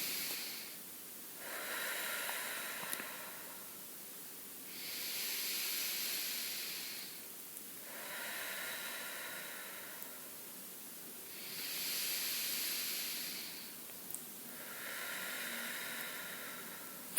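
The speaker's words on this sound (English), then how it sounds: "Again, start with the 3 deep breaths." Deep breaths in a breathing exercise: slow, airy inhales and exhales in a steady repeating cycle, about four or five full breaths, close and soft with no talk.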